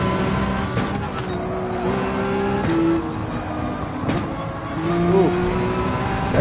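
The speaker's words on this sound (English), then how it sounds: "that Lamborghini sounds like an angry bull" Lamborghini race car engine in Gran Turismo 7, a steady loud engine drone with shifting tones and brief revs, heard up close throughout.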